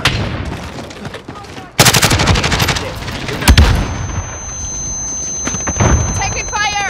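Gunfire from an HK G36C and other weapons in Call of Duty Modern Warfare, dense loud bursts of automatic fire and heavy blasts, with voices calling out over the combat.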